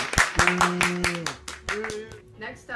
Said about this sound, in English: Everyone give a big round of applause for the 31st president.